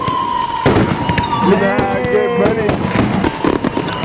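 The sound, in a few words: fireworks exploding in backyard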